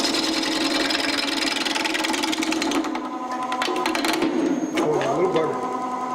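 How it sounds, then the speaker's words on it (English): A wood lathe spins with a steady mechanical hum and a whine of harmonics, close and fairly loud, with a slight change in pitch partway through. A person talks over it. "I can go a little faster until my lathe starts shaking a little bit"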